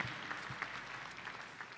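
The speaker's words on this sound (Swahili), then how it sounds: "Na tuwapigie vizuri makofi." A congregation claps for the choir during a Kikuyu-language service at PCEA Thika Town Church: a brief, quiet burst of steady applause from a modest crowd, heard at some distance.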